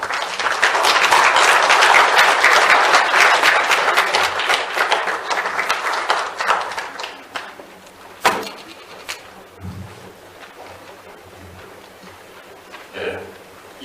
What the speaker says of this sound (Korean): 나오실 때 여러분 큰 박수 주시면 고맙겠습니다